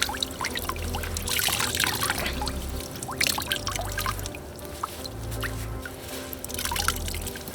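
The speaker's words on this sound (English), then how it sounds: "I'm just still wringing it out." Water drips and trickles as a soaked T-shirt is wrung out by hand, uneven bursts of splashing and dribbling that rise and fall in short repeated pulses, close and moderately loud.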